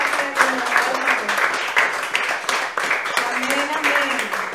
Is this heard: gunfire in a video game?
no